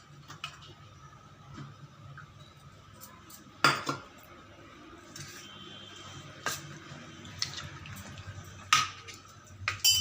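Cauliflower pieces being stirred into batter in a bowl, with a utensil scraping and clinking against the dish in quiet, intermittent bursts and a few sharper taps.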